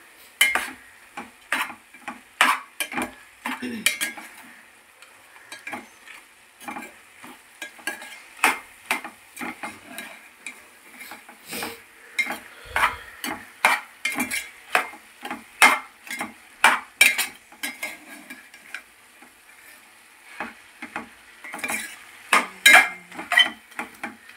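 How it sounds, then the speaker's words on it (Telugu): Chicken curry mixture being stirred in a pot, a spoon scraping and clinking against the metal in irregular strokes with a faint cooking sizzle underneath, close and fairly loud, no talking. "ఇప్పుడు మొత్తం కలిసేటట్టుగా కలుపుకుందాం, మొత్తం 4 వైపులా"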